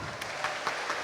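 Brief burst of studio audience applause on a TV talk show, fairly faint and steady, with scattered claps standing out.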